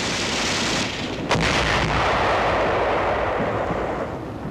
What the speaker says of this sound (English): our tanks move forward under heavy fire. One narrowly escapes a direct hit.